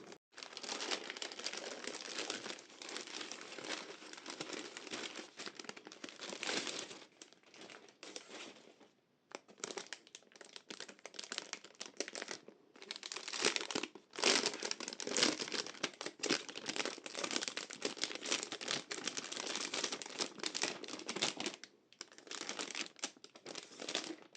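Continuous crinkling and rustling of a small plastic bag holding knitting needles, close and fairly loud, with brief pauses between bursts of handling.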